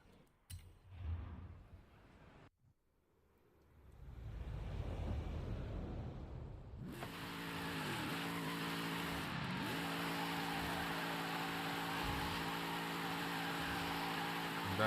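A Chevrolet Corvette 2013 Formula Drift car in Forza Horizon 5 roars up loud midway through and keeps up a steady, close engine drone to the end, after a few seconds of quieter rumbling.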